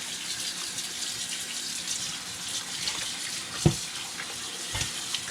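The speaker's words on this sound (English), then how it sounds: "Just kind of break it apart so it you can kind of rinse all through it." Tap water running steadily over cooked poke sallet pokeweed greens in a sink, a continuous close rinse with a couple of sharp knocks of the pan or greens partway through.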